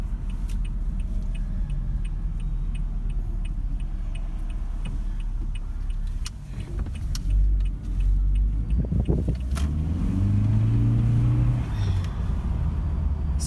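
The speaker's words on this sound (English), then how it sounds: "This car really moves in the power mode." A Toyota Prius V hybrid car accelerates hard in power mode, heard from inside the cabin as a steady low rumble that swells and rises in pitch toward the end, with faint ticking throughout.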